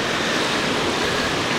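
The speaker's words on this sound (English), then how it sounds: "And then there's like the jacuzzi over here." Jacuzzi water bubbling and churning steadily beside the heated swimming pool at the Le Meridien Vienna hotel, a dense, even wash of hissing, rushing water close by with no voices.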